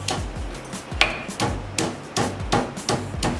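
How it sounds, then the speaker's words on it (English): A spoon grinds seasonings against an old blue limestone stone, producing rhythmic, close scraping and knocking strokes repeated roughly every half second, with no voices. "you're gonna use the spoon to grind your seasonings"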